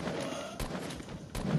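Two sharp sniper shots ring out in Fortnite about three-quarters of a second apart, each a crisp crack over a low ambient hum.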